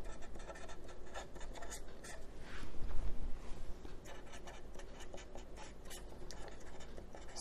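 A pen or marker writes by hand in steady scratchy strokes, close and fairly faint, with no talking over it.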